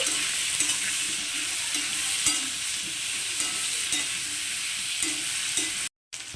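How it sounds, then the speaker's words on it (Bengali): Pumpkin pieces fry in a pan, giving a continuous close sizzle with intermittent stirring clatter, cutting out briefly near the end before resuming. "দেখুন বন্ধুরা কুমড়োগুলো ভেজে নিয়েছি"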